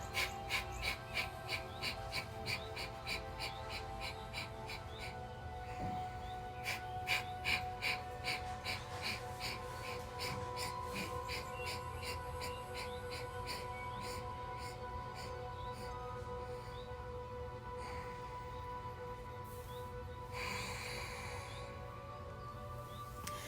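Rapid Kapalabhati yoga breathing: a run of quick, rhythmic, forceful exhalations through the nose, close and soft, pulsing steadily at first and then easing into a quieter stretch over a faint background hum.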